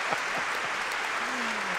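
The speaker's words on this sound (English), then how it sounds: "Round of applause for hockey." Applause from a hockey watchalong crowd during an eventful NHL game between the Senators and Hurricanes, a steady broadband wash at moderate level with a faint voice tone sliding through near the end.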